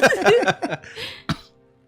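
A single sharp cough bursts out near the end, following a stretch of close talking, then quiet.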